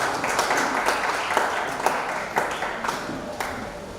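An audience at a community programme at the AMAC resource center in Abuja applauds a chairman on his way to the microphone, a moderate, slightly distant patter of clapping with a few sharper claps standing out.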